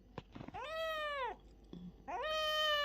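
A cat meows loudly and close by in two long drawn-out calls after a few short squeaks, asking for milk.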